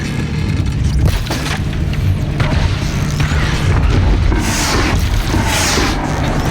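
Bombardment explosions in the video game Horizon Zero Dawn: The Frozen Wilds, inside a volcano cauldron, produce a dense, continuous barrage of loud rumbling booms and crashes with no break.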